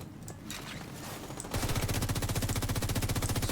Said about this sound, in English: Got some suppressive fire going.